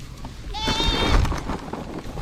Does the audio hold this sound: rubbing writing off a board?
no